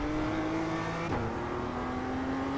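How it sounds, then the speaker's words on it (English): A car's exhaust drones steadily at close range, dipping briefly in pitch as if between gear shifts before settling into a sustained hum. "I think that's the exhaust."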